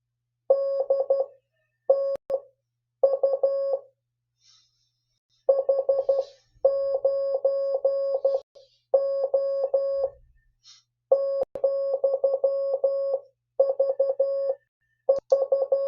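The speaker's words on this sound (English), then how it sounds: "So listen to this, and I'm going to play 3 different tones." Morse code CW tones keyed in a steady rhythm of dots and dashes, loud and close, with short pauses between bursts and no talking.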